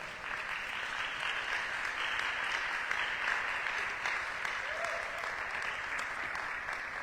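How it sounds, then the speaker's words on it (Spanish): A church congregation claps together in sustained, dense applause that holds at an even level for several seconds, heard from within the hall, before easing slightly at the close. "Denle un aplauso al Señor."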